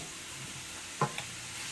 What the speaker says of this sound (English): I'm going to go ahead and let this saute for a couple of minutes